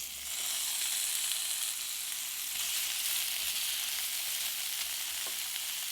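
Lotus stem frying in a pan with cumin seeds and leftover oil, a continuous close sizzle with light stirring, steady and alone without any talk.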